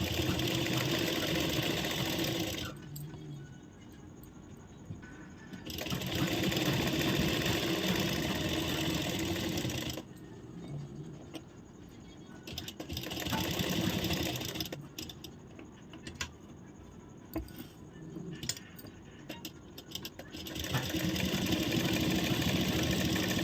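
Sewing machine stitching a blouse in bursts, loud running stretches alternating with quieter pauses and small handling sounds, close by with no talk.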